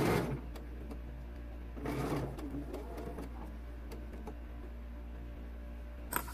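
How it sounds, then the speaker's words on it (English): A sewing machine stitches over the ribbon edge of a pacifier clip, a brief burst of motor hum and needle ticking near the start, then a quieter steady whir with a low electrical hum underneath. "we're just going to sew over the edge here"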